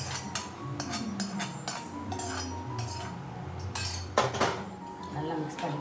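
Utensils clink and scrape against a cooking pot as food is stirred and mixed, several sharp metallic knocks over a steady low kitchen background, with a louder clatter near the end.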